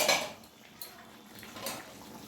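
A cooking pot lid clinks and scrapes as it is lifted off while lemon chicken cooks, two short metallic clatters with a soft hiss between them.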